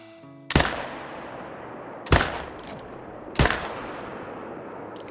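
Three loud, sharp rifle shots spaced over about five seconds in theHunter Call of the Wild hunting video game, each followed by a rolling echo tail.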